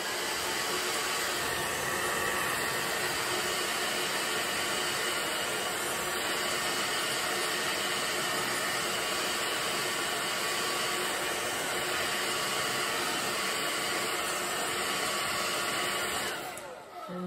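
A hair dryer blows steadily on acrylic paint, a loud continuous close whooshing hum that runs unbroken and cuts off at the very end.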